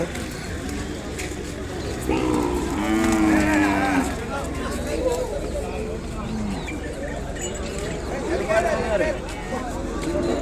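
A six-month to one-year-old calf recovering from a virus moos loudly several times at a busy cattle market in Kodad, with someone talking and crowd chatter throughout.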